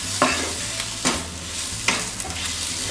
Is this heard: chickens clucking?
no